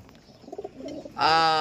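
Soft low cooing from racing pigeons, then a sudden loud, harmonic, drawn-out tone cuts in near the end.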